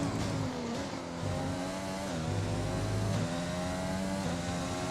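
An F1 race car in the F1 2020 video game, its high-pitched engine whining steadily with gear changes shifting the pitch up and down, loud and continuous throughout.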